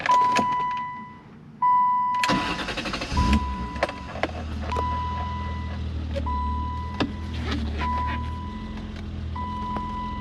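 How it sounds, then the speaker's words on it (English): A 1990 BMW 325i E30 sedan with a five-speed cranks briefly and catches, then settles into a steady low idle close by, while a repeating electronic chime beeps at regular intervals throughout. "let me just go ahead and start the car"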